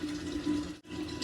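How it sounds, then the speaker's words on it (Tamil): Water pours steadily from a tumbler into a mixer jar holding curry leaves, a close, continuous splashing trickle that pauses briefly before resuming. "இதில் நான் 1 டம்ளர் தண்ணி ஊற்றுறேன்."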